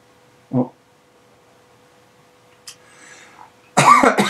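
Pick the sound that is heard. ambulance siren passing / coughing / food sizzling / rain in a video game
coughing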